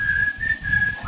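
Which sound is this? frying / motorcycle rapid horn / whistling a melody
whistling a melody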